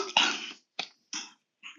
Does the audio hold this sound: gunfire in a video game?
no